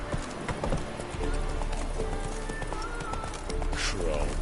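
In The Witcher 3, the horse Roach gallops in rapid, rhythmic hoof clip-clop that runs steadily throughout at close range, mixed with game ambience and a voice talking over it.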